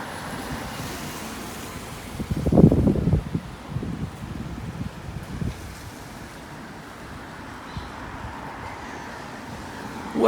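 Wind gusts buffet an outdoor spot in a Cotswolds village on a rainy morning, a steady low rumble with a brief louder rustle early on, no voices.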